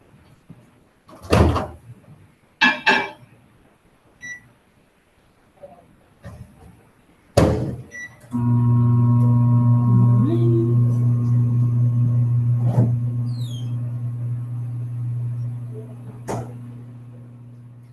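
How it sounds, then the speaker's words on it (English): A kitchen microwave oven door opens and shuts with a few clunks, then the oven runs with a steady, fairly loud hum for about ten seconds while heating solid peanut butter to soften it. "I'm going to pop this in the microwave right now"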